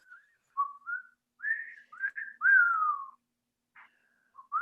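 A person whistles a short melodic tune alone, clear and close, phrase by phrase with brief pauses between notes.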